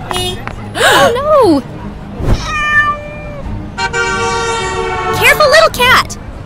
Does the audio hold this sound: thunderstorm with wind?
no